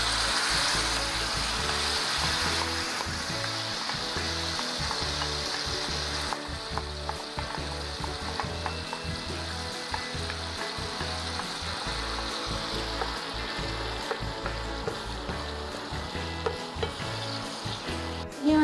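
A thick paste of dates, prunes and dried figs fries in a pan for dry fruit halwa while being stirred, with a continuous sizzle and a repeated rhythmic scraping of a spoon against the pan, close and steady, no talk.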